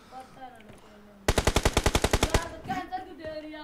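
In the PUBG Mobile video game, an automatic weapon fires one rapid burst of about a dozen loud, evenly spaced shots that lasts roughly a second. Voices talk quietly before and after the burst.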